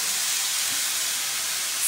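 Fried rice with bamboo shoots and edamame sizzles steadily in a hot pan, a dense crackling hiss with no talking throughout.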